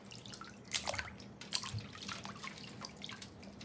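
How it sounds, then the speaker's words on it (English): Watery splashes and drips as ears of corn are dropped into a basin of ice water, a few soft plops followed by trickling, close by and fairly quiet. "So I'm putting it over into the ice water."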